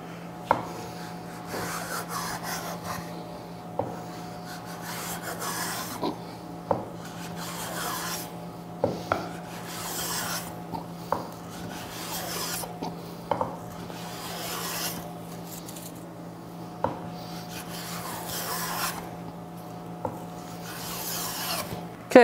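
Repeated long strokes of a smoothing plane rasp across a wooden Shaker table top in a steady rhythm, each pass ending with a small knock, close by.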